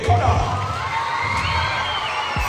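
Crowd of children cheering, whooping and shouting after a school music-and-science concert, a lively, loud mix of voices with high-pitched yells throughout.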